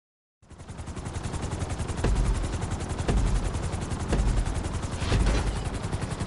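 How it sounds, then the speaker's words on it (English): A helicopter in GTA V runs steadily with a dense, loud rotor chop and turbine roar, with periodic heavier thumps pulsing through the continuous drone. "we're gonna put you in a helicopter for this lesson"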